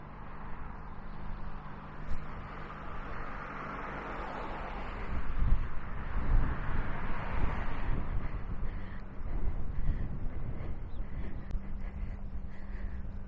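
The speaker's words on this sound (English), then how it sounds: "It's windy today." Gusty wind roars and buffets steadily on a street in Halifax, Canada, swelling into stronger rumbling gusts partway through, with no one speaking.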